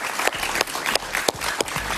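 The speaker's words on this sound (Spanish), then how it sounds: "Un aplauso para él, por favor." Studio audience applauding a stand-up comedian on a Friday night talk show, a steady loud clapping wash with a few sharper bursts, no talk over it.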